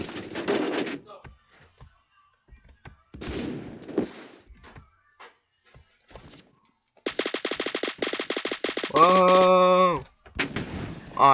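Rifle gunfire in the video game Phantom Forces, with scattered single shots and then a dense rapid burst of fire followed by a loud sustained tone, heard close and loud between quieter pauses, with a voice briefly reacting.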